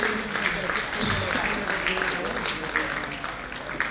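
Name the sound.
audience applause for an honour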